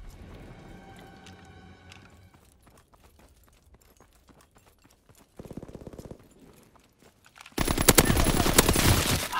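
Gunfire in the WWII shooter game Call of Duty WW2: scattered cracks give way to a loud, sustained burst of rapid automatic fire near the end, with no voices.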